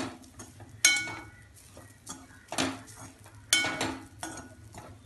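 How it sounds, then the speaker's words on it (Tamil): A spoon scrapes and clanks against a pan while prawn puttu with grated coconut and pepper is stirred, several sharp metallic knocks spaced irregularly among softer scraping, close and clear with no talk. "ரெண்டையும் போட்டு நல்லா கிளறிடுங்க."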